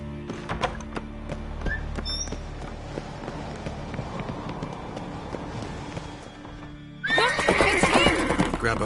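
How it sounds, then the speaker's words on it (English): A horse whinnies loudly in the game Witcher 3, then hooves clatter in quick succession over a steady game ambience, growing louder near the end. "Grab a horse, we'll chase him down."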